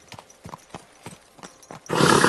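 Horse hooves clip-clop at a walking pace in the medieval video game Kingdom Come: Deliverance II, a steady series of soft thuds that ends in a sudden loud rush of noise.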